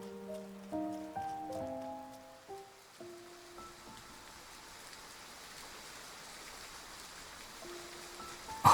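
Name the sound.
rain in the video game Love and Deepspace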